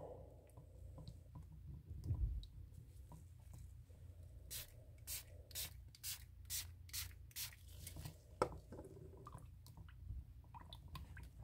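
Stick stirring a two-part polyurethane resin mix in a cup, soft scraping strokes in a quick repeating rhythm close by, quiet and alone with faint background hum.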